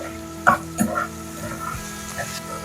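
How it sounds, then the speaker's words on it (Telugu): Onions, ginger and garlic fry in a pan for a green egg masala curry, giving a soft, low sizzle broken by a few sharp clinks while someone talks over it. "అట్లనే కొంచెం అల్లం కొన్ని వెల్లుల్లి వీటిని ఫ్రై చేసుకోవాలి వీటన్నిటినీగా ఆనియన్స్ లైట్ బ్రౌన్ కలర్ వచ్చేంత వరకు ఫ్రై చేసుకోవాలి"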